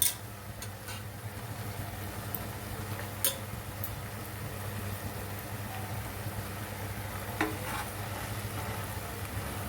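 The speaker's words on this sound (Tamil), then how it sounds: "கொத்தமல்லி போட்டு 1 நிமிஷம் மட்டும் வதக்குங்க." Tomatoes and coriander leaves sautéing in a pan for a tomato coriander chutney, giving a steady close sizzle with a low hum underneath and a few sharp scraping clicks of stirring.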